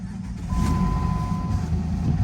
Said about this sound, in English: let's go ahead and start it up, see how she sounds.